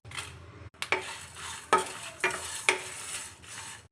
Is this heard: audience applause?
no